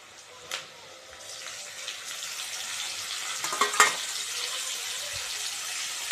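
Tomatoes go into frying onions in a pan, giving a steady broad sizzle with a few louder crackles and stirring noises partway through.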